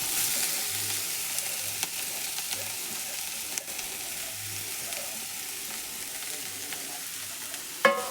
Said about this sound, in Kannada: ಈಗ ಇದಕ್ಕೆ ಕಡಾಯಿ ಒಳಗೆ ನಾನು ಇವು ಗಜ್ರಿ ಈ ಥರ ಹೆರಚಿಟ್ಕೊಂಡೇನಲ್ರಿ, ಇದು ತುಪ್ಪದಾಗ ಹಾಕಿ ಹುರಿತೇನೆ ನೋಡ್ರಿ.